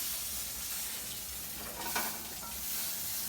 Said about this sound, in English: So I've got a pork chop that is just finishing up cooking here.